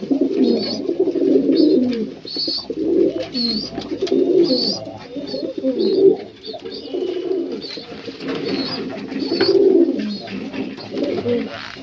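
Domestic pigeons being paired in a loft coo repeatedly in close, soft, rhythmic phrases. The throaty cooing continues through the whole clip with no talking.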